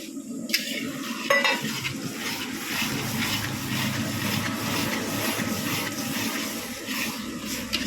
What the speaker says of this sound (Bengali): 10 কেজি চিকেনের পেঁয়াজ কষাচ্ছি